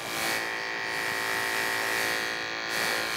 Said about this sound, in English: Listen to that clipper make just, as soon as that clipper makes contact, I pull out.